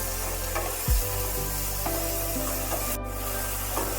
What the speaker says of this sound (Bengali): দিয়ে দিচ্ছি ছোট করে কেটে রাখা বেগুনগুলো। বেগুনগুলো তেলের মধ্যে ভালোভাবে ভাজতে হবে।